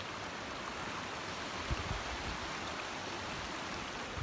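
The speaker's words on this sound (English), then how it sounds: "actually I have some flowing water." Flowing water in a snowy outdoor stream, a steady, even rush of moderate loudness that continues without a break.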